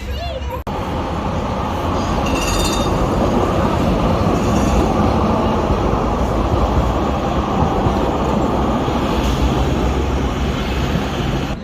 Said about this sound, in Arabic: هذه محطة الباساج في تونس العاصمة.